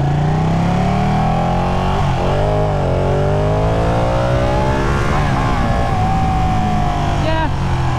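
On a test ride, a Ducati 959 Panigale's engine climbs and falls through rising revs and several gear shifts, loud and close with rushing wind, and a rider's voice is heard over it.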